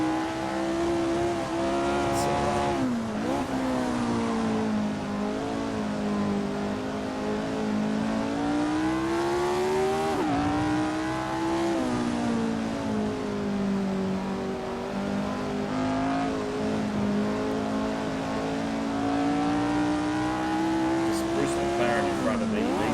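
Historic 1967 Formula 1 race cars, a McLaren among them, at a South African circuit: a loud, sustained engine roar that rises and falls through gear changes and passes, continuous throughout.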